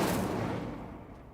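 An Incendio fire spell cast in Hogwarts Legacy bursts out as a short, loud whooshing blast that swells and quickly fades.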